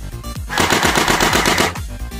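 Battery-powered airsoft AK rifle firing a single full-auto burst, a rapid buzzing rattle of shots lasting about a second, loud and close, with no talking.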